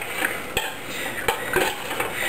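Shrimp and crawfish stirred into a pot of etouffee, a spoon knocking and scraping against the pot in a few sharp clinks over a soft wet shuffle, close and fairly quiet.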